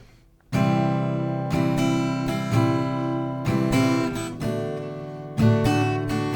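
An acoustic guitar strums chords in a steady rhythmic pattern, loud and close, with bright ringing chords changing every second or so and no voice.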